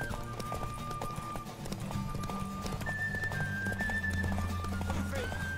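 A horse gallops with a steady clip-clop of hooves and gives a neigh in the fantasy video game The Witcher 3, set under game music and ambient tones at moderate volume.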